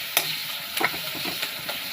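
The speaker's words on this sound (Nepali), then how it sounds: "मैले तेल खराएर चाहिँ सब अदुवा, लसुन, प्याज, टमाटर हालेर मैले मसला कस्दैछु" Ginger, garlic, onion and tomato masala frying in hot oil, a steady close sizzle with a few sharp scrapes and clicks of a spoon stirring the pan, no voices.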